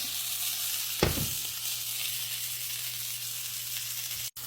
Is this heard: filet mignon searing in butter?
yes